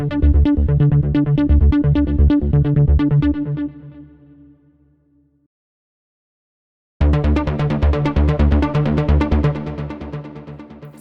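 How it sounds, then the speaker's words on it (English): An arpeggiator synth preset from the Liquid Synths pack for Pigments 4 plays fast repeating note patterns, loud and alone. It fades into a few seconds of silence, then resumes brighter and higher. "First, you have the arpeggiators"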